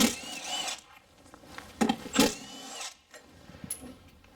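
An impact gun removes 10mm intake bolts on a Subaru, firing several short, sharp mechanical bursts up close, with quieter rattling and handling noises between them.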